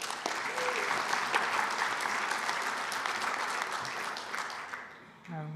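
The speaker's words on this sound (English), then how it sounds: "If I could get a round of applause" Sustained audience applause at an internet numbers registry conference, a dense steady clapping from a large room that holds for several seconds and then fades as it ends.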